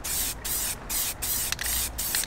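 Spray paint hisses onto a wheel in short bursts during the last coat, about five close, loud sprays separated by brief pauses.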